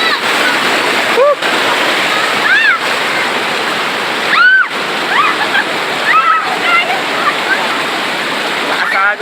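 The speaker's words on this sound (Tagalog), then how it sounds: "Lakas ang agos dito." Strong river current rushing loudly and continuously close by, with excited voices shouting over the roar of the water.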